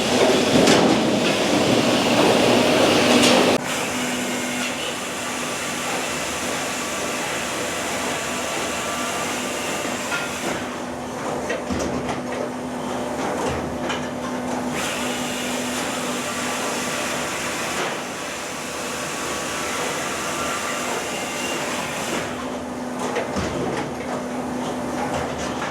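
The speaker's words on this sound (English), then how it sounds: "We're running some 6-inch cherry splits through the Spit" A firewood processing machine runs 6-inch cherry splits, making a steady, loud mechanical roar with clattering throughout. It is loudest in the opening seconds and has no talking.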